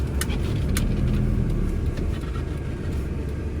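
Power steering on a 2003 Nissan Frontier 3.0 at full steering lock during a turn, a continuous low rumble with engine hum and occasional faint clicks, steady and close.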